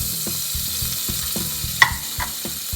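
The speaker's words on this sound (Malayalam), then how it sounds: "ആ കുരുമുളക് ചതച്ചതും പിന്നെ വെളുത്തുള്ളി ആ ചതച്ചതും ഒന്ന് പതിയെ ഒന്ന് സോട്ട് ചെയ്യാം" Crushed black pepper and garlic sautéing in oil for mutton soup, a close, even sizzle punctuated by regular rhythmic stirring taps and one brighter metallic clink.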